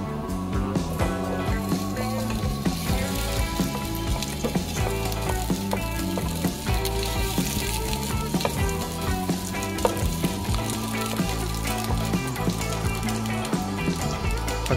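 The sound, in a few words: sautéing onions in a pan for ginisang tahong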